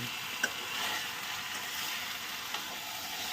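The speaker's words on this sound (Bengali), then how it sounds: "কষানো হচ্ছে, এখন জমিয়ে কষাতে হবে, তেলটা উঠবে" Chicken pieces braise and fry in hot oil in a pan, giving a steady close sizzle with a couple of faint ticks from stirring, and nobody speaks.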